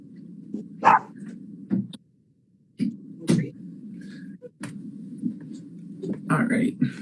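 Dog barking in the background with several short, scattered barks under a podcast conversation, with people talking over it.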